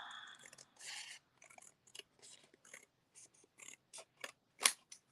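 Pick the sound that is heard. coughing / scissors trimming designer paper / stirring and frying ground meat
scissors trimming designer paper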